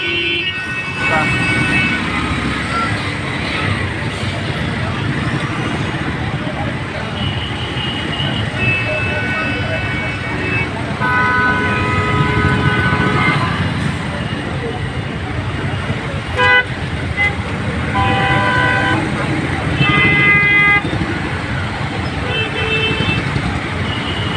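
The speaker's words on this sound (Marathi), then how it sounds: "आदर्श पेट्रोल पंप समोर ट्रॅफिक जाम झालेली आहे" A traffic jam in front of the Adarsh petrol pump at Ashtabhuja, heard from an e-rickshaw, with repeated car and vehicle horns tooting over a continuous roadway rumble. A voice talks through parts of it.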